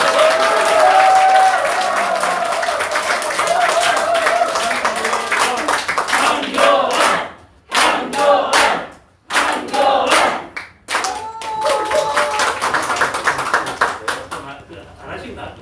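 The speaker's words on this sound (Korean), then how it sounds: "뜨거운 박수로 모시겠습니다" Applause from a crowd at a market in Daegu greets a party leader arriving for a campaign visit, clapping steady and loud through the first part, then breaking into gaps with talk and voices carrying over the scattered claps.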